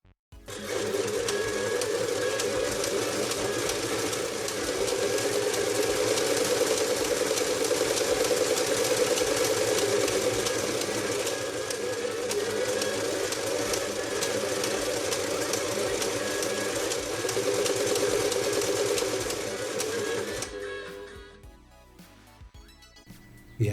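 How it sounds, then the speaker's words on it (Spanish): A restored Alfa 520 sewing machine, driven by a speed regulator that replaces the foot pedal, runs at a steady, loud, continuous whir for about twenty seconds before it winds down. "con el regulador que sustituye al pedal podremos regular totalmente la velocidad a la hora de coser"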